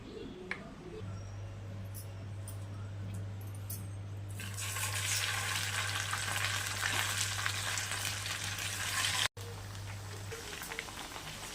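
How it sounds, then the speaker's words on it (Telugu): Marinated chicken deep frying in hot oil, a loud, dense crackling sizzle that sets in partway through and continues steadily to the end. "చికెన్ డీప్ ఫ్రై చేస్తాం."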